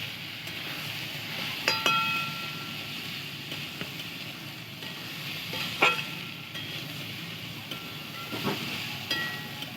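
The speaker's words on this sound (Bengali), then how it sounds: "এবারে এটাকেও ভালো করে ভেজে নেবো তেল আর পেঁয়াজের সঙ্গে" Mung and masoor lentils frying in oil with onion, a steady close sizzle with occasional clinks of a utensil stirring the pan.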